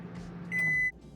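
A microwave oven runs while cooking potol korma in a bowl covered with a microwave-safe plate, giving a low steady hum with a single short, clear electronic beep partway through.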